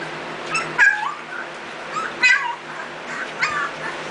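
Newborn puppies whimper in a few short, high-pitched squeaky bursts, close by and fairly clear, with a steady low hum and some soft voices in the background.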